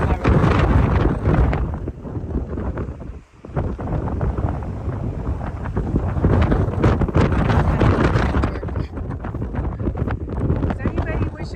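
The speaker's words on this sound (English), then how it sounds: "Maybe that way it can reduce the noise from the wind." Strong wind buffeting a microphone in a cemetery, a loud continuous low rumble and roar with gusty swells, and a person talking over it.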